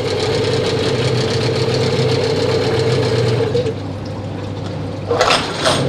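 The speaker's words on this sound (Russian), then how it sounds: "Запуская мотор и при возврате шнура в ручной стартер, возникает такой скрежет." A Chinese 9.8 hp outboard motor runs with a steady mechanical drone and rattle, then it cuts off and a harsh rasp follows as the cord retracts into the recoil starter, with no talk.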